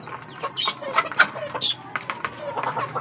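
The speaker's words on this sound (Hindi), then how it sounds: "ये मुर्गा जो है ना ये ये काटता है मुझे" A farmyard rooster clucks close by while being fed rice, giving a few short, sharp clucks and squawks spread unevenly over a few seconds.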